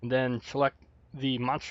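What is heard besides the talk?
No everyday noise stands out behind the speech.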